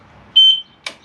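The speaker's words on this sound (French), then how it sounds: "la marche arrière avec le bip-bip comme les camions" A single short steady electronic beep from an electric mobility scooter's reverse warning, close and loud, followed by a brief soft click or rustle.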